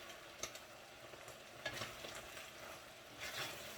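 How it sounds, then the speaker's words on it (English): Pork carnitas fry in a pan with a soft, continuous sizzle, broken by a few brief stirring scrapes. The sound is close but quiet, and no one speaks. "You could just hear it frying up."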